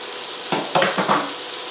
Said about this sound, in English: Should start sizzling